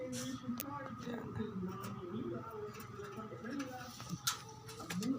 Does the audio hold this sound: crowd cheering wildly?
no